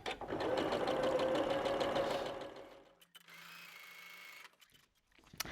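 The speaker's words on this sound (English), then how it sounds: "we're just going to sew just to the slight outside" A sewing machine stitching red quilt fabric runs fast and steady for about three seconds, then slows to a lower hum before stopping, with small clicks near the end, close by.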